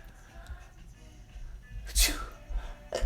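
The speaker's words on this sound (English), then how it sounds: "A few more sneezes in me." One sharp, loud human sneeze bursts out after quiet indoor background noise, with a second brief sneeze-like burst right at the end.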